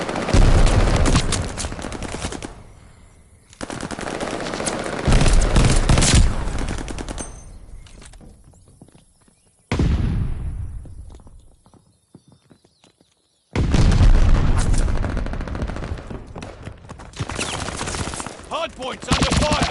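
Bursts of automatic gunfire around a hard point objective in Call of Duty: Vanguard multiplayer, loud and dense in several long volleys broken by short lulls, with game sounds mixed in.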